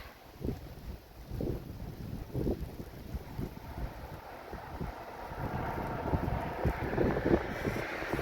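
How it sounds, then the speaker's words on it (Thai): Strong wind buffets the microphone outdoors on a cold day, producing a steady roaring rush with repeated heavy gusts and low rumbling. "ลมแรงมาก"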